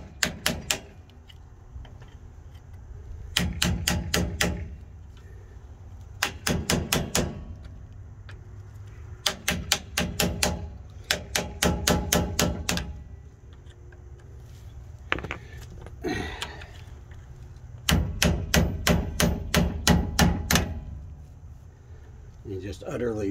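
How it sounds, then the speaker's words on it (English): A flathead screwdriver or chisel is hammered to drive out the rear axle shaft seal on a 1998 GMC, producing quick bursts of sharp metallic blows in rhythmic clusters separated by short pauses. "the quickest way is just to take a flathead screwdriver or chisel, just like I did with the pinion seal"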